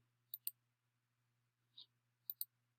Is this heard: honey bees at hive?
no